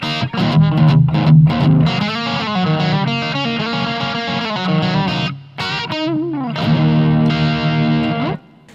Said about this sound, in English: let's switch over to a humbucker guitar now and get a couple of different tones